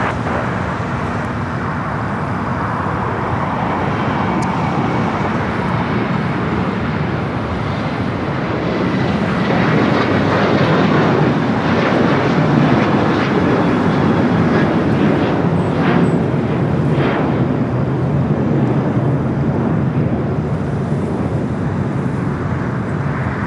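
A fixed-wing airliner taking off from runway 25 right at LAX, a steady, loud, broadband engine roar that swells slightly midway and holds continuously throughout, heard from nearby.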